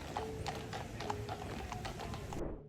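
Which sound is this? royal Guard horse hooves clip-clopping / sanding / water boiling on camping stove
royal Guard horse hooves clip-clopping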